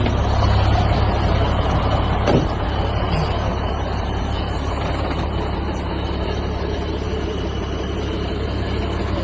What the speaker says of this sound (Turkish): iki çizgi arasında kamyonumuz durdu.